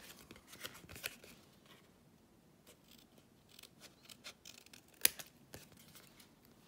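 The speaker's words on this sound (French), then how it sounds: "On va tout simplement prendre nos ciseaux et on va venir couper comme ceci" Scissors cutting paper for a handmade Christmas candle holder, a series of soft close snips and crisp crunches in irregular rhythm, with one sharp louder snip near the end and no talking.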